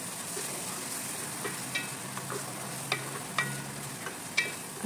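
A spoon stirs tomato paste through a sizzling pan for a fish dish. Steady frying hiss runs underneath, with sharp clicks and scrapes of the utensil against the pan at irregular intervals, close by and with no voices.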